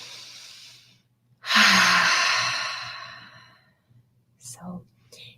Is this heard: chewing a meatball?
no